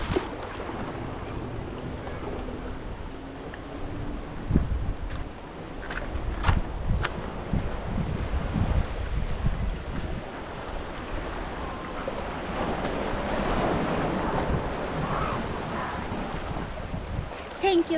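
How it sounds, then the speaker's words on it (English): Ocean waves at Ya Nui beach in Phuket, Thailand, a steady wash of surf mixed with heavy wind rumble on the microphone and faint background activity. "So this is the beach."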